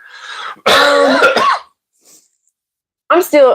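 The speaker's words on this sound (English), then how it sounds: "We're both still dealing with coughs." One harsh cough or throat-clearing burst, close and loud, between stretches of speech on a livestream, with a brief pause before talking resumes.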